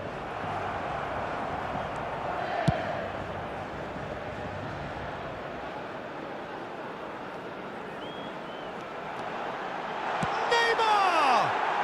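Football stadium crowd at a Brazil versus Argentina match roars in a broad, sustained wash of cheering, swelling louder near the end with whistles cutting through.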